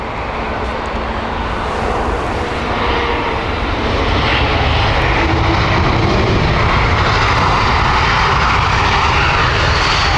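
A China Airlines airliner passing at Heathrow Airport, a loud, steady jet engine roar that builds slightly and holds across the clip, close and with no talk.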